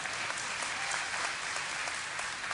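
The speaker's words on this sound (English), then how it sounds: "So get ready to applaud more," Dense, continuous applause from a large convention audience at a BlizzCon question-and-answer session, loud and even throughout with no speech over it.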